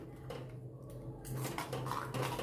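Rajwadi Gujarati khichdi is stirred in a pot with ghee, producing quiet scraping and light metallic clinks of a spoon against the pot, growing slightly busier toward the end.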